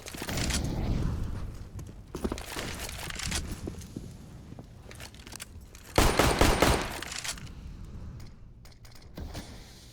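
AK rifles fire in a Counter-Strike match, with loud, crackling bursts of automatic fire at the start, again around the middle, and a heavier volley later, separated by quieter gaps of in-game movement.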